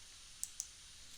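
A computer mouse clicks twice in quick succession, sharp and quiet, over a faint steady background hiss with no talking.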